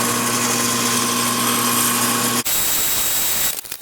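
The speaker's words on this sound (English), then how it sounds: "let me go ahead and get set up on the drill press" Drill press drilling a gauge cluster panel, a loud steady hum with a harsh broadband roar that shifts partway through, then winds down at the end.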